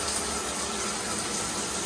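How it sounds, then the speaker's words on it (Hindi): Hot water pours steadily from a bathroom tap, a loud, even rushing hiss that runs unbroken and close by with no voices. "गरम पे लगा देता हूँ मैं, गरम पानी चला दूँ।"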